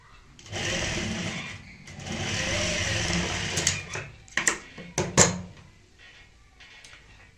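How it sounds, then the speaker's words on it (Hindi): A sewing machine runs in two sustained bursts while stitching a fabric potli bag at home, its steady whirring hum followed by a few loud clicks and knocks as the work is handled. "तो ये देखिए हमने सिलाई लगा ली है"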